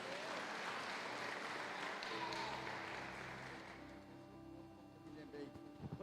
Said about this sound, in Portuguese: Vamos dar uma salva de palmas ao nosso Deus.